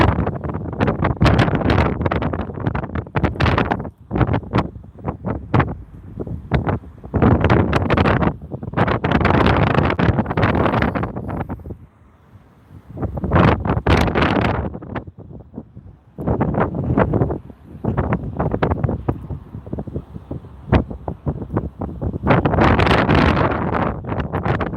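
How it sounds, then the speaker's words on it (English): Heavy gusts of wind buffet the microphone in loud, roaring waves, easing briefly before blasting again. "it's still pretty windy"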